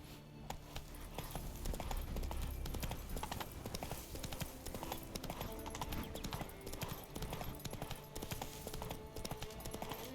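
Hooves of the horse Roach clip-clop at a gallop in The Witcher 3 gameplay, a dense, continuous drumming of steps close by with wind-like rumble underneath and a faint voice at the very start.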